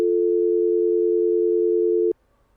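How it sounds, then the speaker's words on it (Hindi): A steady, loud telephone tone after a call disconnects holds for about two seconds, then cuts off with a click, leaving near silence. "यहाँ पर फोन कटा है शायद"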